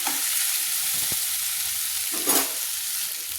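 Onions frying in a pan over a medium flame give a steady close sizzle, with a brief utensil tap and one short stirring scrape partway through.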